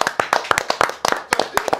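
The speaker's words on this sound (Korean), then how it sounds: "박수 한번 치고 가겠습니다." A small studio group claps hands on a live political talk broadcast to mark a birthday, sharp uneven claps close to the mic that carry on steadily for about two seconds.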